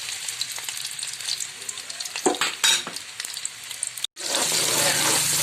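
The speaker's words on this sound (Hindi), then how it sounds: "अब हम इस ऑयल के अंदर अपनी ये हम प्याज डालेंगे" Chopped onion sizzles loudly as it hits hot oil in a pan, with steady frying crackle, a few stirring scrapes midway, a brief cut, then a stronger continuous sizzle.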